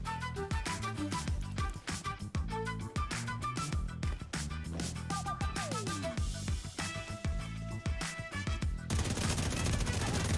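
Rapid bursts of gunfire in The Division 2 crackle in quick succession, loud and continuous, with a sharper, noisier stretch at the end.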